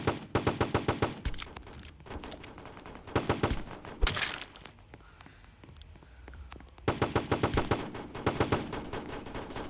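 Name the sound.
gunfire in a shooting video game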